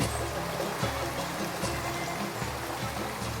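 A waterfall on the sacred plateau of Cundinamarca, Colombia, pours as a constant broadband rush of falling water, steady and fairly close, with no voices over it.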